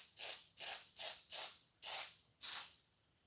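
Urethane finish sprayed from an aerosol can: six short, sharp hissing bursts in a quick, uneven rhythm, close and fairly loud with brief silences between them.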